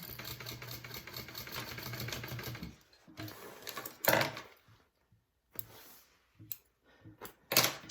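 A sewing machine runs in a steady mechanical whir for nearly three seconds while stitching a fabric PacSac bag, then breaks into a few short bursts with quiet gaps between them.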